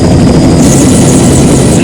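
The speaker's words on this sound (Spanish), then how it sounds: "un compañero engancha la carga al helicóptero y nos elevamos lentamente" A helicopter in a video game hovers and slowly lifts a hooked cargo load, its rotor and engine producing a loud, steady, unbroken roar throughout.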